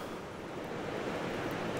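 The steady roar of Gocta waterfall in Peru, a dense broadband rush from a spray-filled spot nearby, continuous and unbroken with no talking.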